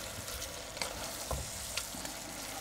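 Pork meat sizzles and fries in a pan as it is stirred, a steady crackling hiss with a few soft scraping strokes, close and alone without talk.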